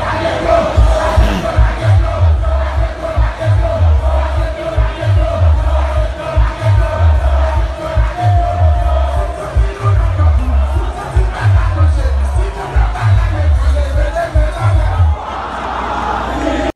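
A large protest crowd in Port-au-Prince, Haiti chants and shouts in rhythmic bursts, a loud, close mass of voices pulsing steadily throughout, with someone talking over it.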